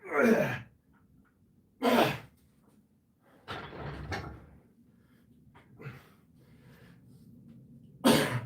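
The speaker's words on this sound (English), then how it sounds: "You hear me cough sometimes because I have some slime in my throat." Man coughing during a weightlifting workout with pull-ups, squats and dips, several sharp, separate coughs and throat bursts spaced a few seconds apart in a quiet room.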